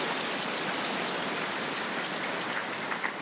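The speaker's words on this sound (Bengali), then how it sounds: "স্বস্তির বৃষ্টি" Steady rain falls hard and evenly on surfaces, a dense continuous patter with scattered louder drops and no voices.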